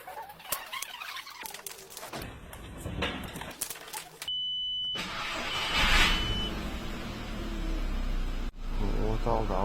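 A VW Polo engine, just back from an injector repair, turns over and catches, settling into a steady running drone near the end. Voices and shop noises come before it.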